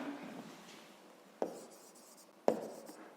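A pen marks an asterisk on paper during a fifth-grade math exercise, a quiet scratchy scribble with a few sharp taps of the pen tip striking the page, close and alone.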